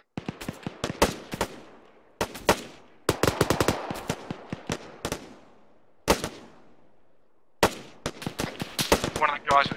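Bursts of rapid gunfire in the military shooter Arma 3, several loud automatic volleys of sharp cracks separated by short pauses, close and dominant throughout.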